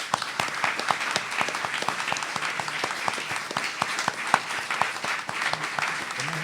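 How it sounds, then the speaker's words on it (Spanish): An audience at a poetry event claps steadily for several seconds. The sound is dense, even applause from a roomful of listeners, with a few sharper claps standing out. "les pido un aplauso."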